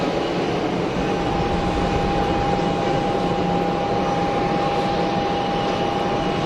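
An Emirates airliner on the runway at Geneva Airport produces a loud, steady engine roar with a constant whine, unbroken and close for the whole stretch.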